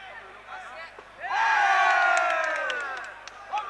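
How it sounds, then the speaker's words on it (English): A crowd at a combat fight event erupts in loud cheering and whoops that swell, hold for a couple of seconds, then ease back, rising from quieter background crowd noise. "The crowd liking those, Shane, cheering in accordance."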